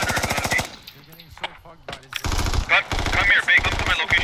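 Machine gun fire in the military shooter game Squad, with long rapid bursts of close, loud automatic shots separated by a short lull holding voice-like chatter and scattered single shots.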